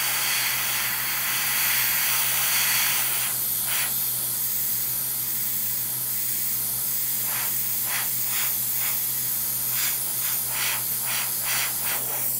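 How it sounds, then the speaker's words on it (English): An airbrush sprays Mission Models water-based acrylic paint with a steady close hiss throughout, broken by several short, sharper bursts of spray in the second half. "So I'm using some terrible spray discipline here and kind of piling it up in a couple of places."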